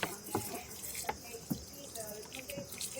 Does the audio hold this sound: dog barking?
no